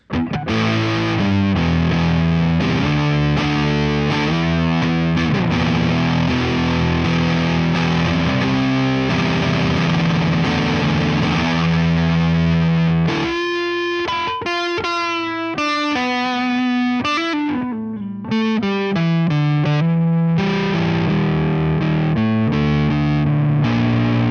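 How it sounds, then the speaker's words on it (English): Electric guitar played through the Distortion Plus drive of a BOSS MS-3, with dense, steady chugging riffs and sustained distorted chords filling the whole stretch, loud and close with no talking. "Distortion Plus."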